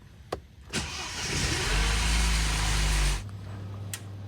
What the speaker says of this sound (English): Try and start it now anyway, and see what happens.